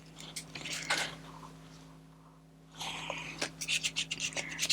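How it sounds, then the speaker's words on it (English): Dry brush with a tiny amount of gesso and no water rubbed and scratched across brown paper in a junk journal, coming as short, close, raspy strokes in two bursts with a quiet pause between. "what I want to do is just dry brush some gesso on here"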